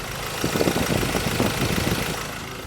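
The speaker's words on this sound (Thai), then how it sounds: "เครื่องยนต์มาสด้า ดีเซลนะครับ 2544 นะครับเพื่อนครับมาฟังเสียงเครื่องกันแบบชัดๆกันนะ" A Mazda BT-50 Pro diesel pickup engine from 2001 idles steadily close by, with a soft, even low rumble and faint rhythmic knocking, no talk.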